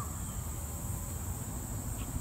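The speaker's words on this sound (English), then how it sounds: "even the crickets are chirping" Crickets chirping in a park in the afternoon, a faint, continuous high-pitched trill that holds steady over low background noise without any talking.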